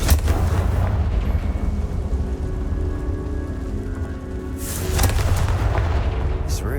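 A Confringo blasting spell going off in the Hogwarts Legacy video game, a loud booming explosion at the start that decays into crackling debris, followed by a second sharp burst partway through.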